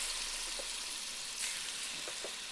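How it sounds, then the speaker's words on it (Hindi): Chicken frying in ghee in a karahi gives a faint, steady hiss and sizzle, with no talking. "और ये हमारा इस तरह फ्राई हो जाएगा और इसको पलट भी लेंगे, दोनों साइड से पकाएंगे"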